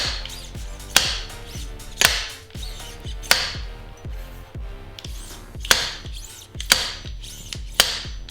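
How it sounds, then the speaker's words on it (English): Repeated sharp knocks and taps of metal on metal, roughly one per second, with clattering mechanical rattles between strikes, close and fairly loud, as a fork seal is driven into a Harley-Davidson Road King front fork. "The fork seal is going to make a different sound when it gets all the way down"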